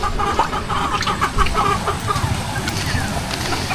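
Chickens at a fishpond gate cluck in short repeated calls over a steady outdoor background, fairly close and continuous throughout.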